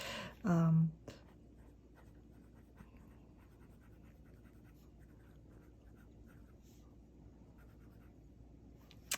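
A gold medium-nib fountain pen scratches faintly across paper in soft, steady strokes, close but quiet, after a brief louder thump near the start.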